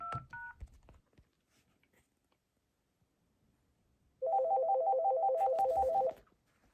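A Panasonic cordless phone dials a line-testing feature code: two short beeps early, then after a quiet pause a quick run of about a dozen evenly spaced touch-tone beeps, close and clear.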